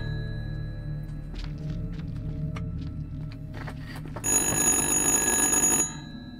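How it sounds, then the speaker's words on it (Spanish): A telephone rings in the horror video game Little Hope, a bright electronic ringing burst that starts abruptly and holds steady for about a second and a half over a low droning game ambience with scattered clicks. "Ahora suena el puñetero teléfono."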